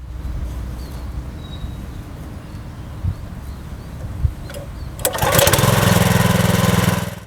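Small tillage machine engine, started by pulling a lever on its right side: a quiet low rumble with a few knocks, then the engine catches and runs steadily and loudly until near the end.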